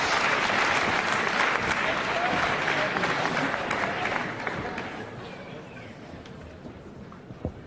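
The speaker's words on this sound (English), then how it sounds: "Just listen to that applause." Audience applause after a six-round wrestling bout between Johnny Saint and Vic Faulkner ends in a one-fall-each draw: dense, loud crowd clapping that holds steady, then thins and fades toward the end.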